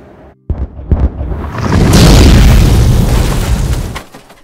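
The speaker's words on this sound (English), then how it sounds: "The worst mine disaster in Pennsylvania began with a fierce explosion." A loud, deep coal mine explosion erupts after a brief pause, swelling into a sustained rumbling roar that lasts a few seconds before fading.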